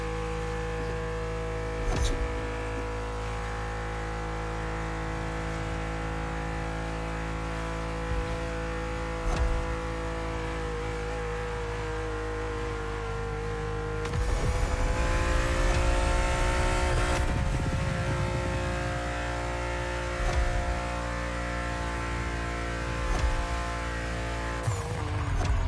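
BMW M2 CS sports car driving in The Crew Motorfest, a steady droning engine note that swells and revs harder midway, with occasional shifts and tire noise, continuous and fairly loud.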